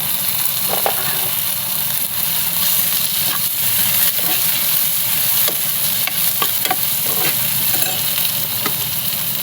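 Tomatoes go into a pan of softened, fried onion for a tondli vegetable dish. A loud, continuous sizzle and fry hiss is heard up close, with light stirring scrapes scattered through it.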